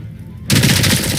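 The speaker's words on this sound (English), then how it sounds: "It's the fucking Tech 9 from Counter-Strike?" A sudden burst of rapid Tech 9 gunfire in the video game RoboCop: Rogue City, loud and close, cutting in after near silence and sustaining to the end.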